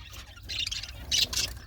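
Button quail chicks peep in short, high bursts of soft tweeting, a few quick calls close by over faint background hum.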